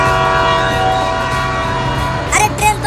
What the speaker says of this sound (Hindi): अरे ट्रेन तो सीटी मार रही है।